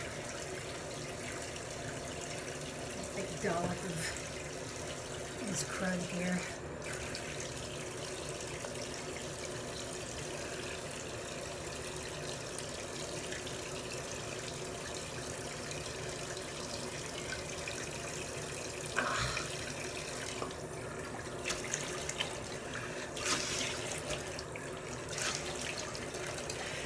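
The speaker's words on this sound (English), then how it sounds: "Warm water here." Warm tap water runs into a bathroom sink, a soft steady faucet stream with a few splashes and handling knocks, quiet throughout, while a person speaks briefly.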